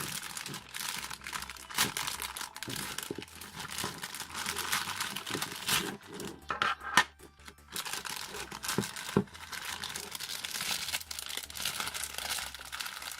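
Plastic wrap crinkles and tears close up as it is peeled off manga volumes, a steady, dense rustle with sharper crackling bursts throughout.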